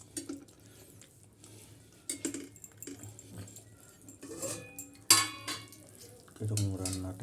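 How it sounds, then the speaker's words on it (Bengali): Potato and soybean curry cooks in a pan, with soft stirring, occasional clinks of a utensil against the pan and a faint sizzle, fairly quiet, with brief voice sounds near the end. "দেখুন বন্ধুরা, আলু সয়াবিনের তরকারি রান্না করছি।"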